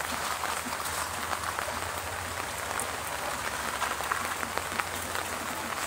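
Steady rain falls during the rainy season, a dense continuous hiss of drops on surfaces with scattered louder patters, close and even throughout with no speech.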